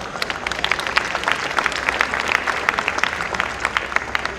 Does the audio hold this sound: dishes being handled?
no